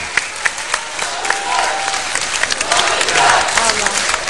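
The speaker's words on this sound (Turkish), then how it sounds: "Alkışlarımızla uğurluyoruz sizleri" An audience applauds to send off a Caucasian folk dance troupe performing Mtiuluri, dense clapping with some crowd noise and faint shouts, steady and fairly loud across the few seconds.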